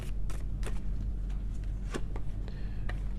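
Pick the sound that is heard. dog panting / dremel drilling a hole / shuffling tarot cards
shuffling tarot cards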